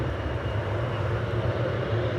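An American Boeing 787-8 Dreamliner bound for Miami idles in line to take off at DFW, its engines making a steady, dense low rumble and hum with no pause.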